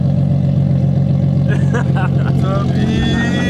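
A Nissan 370Z with an aftermarket exhaust rumbles in a steady, loud, low drone close by, with people talking over it.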